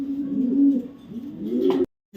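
Afsan grizzle racer pigeons coo close by in a low, rolling series of throaty calls, swelling and fading twice before cutting off abruptly.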